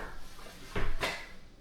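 A closet door in a model home swings shut, giving one soft wooden bump followed quickly by a sharper latch click, fairly quiet against a faint room hiss.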